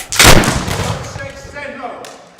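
A musket gunshot sound effect in a stage performance of Treasure Island, one loud close blast followed by a rumbling decay lasting about two seconds, with a voice shouting over it.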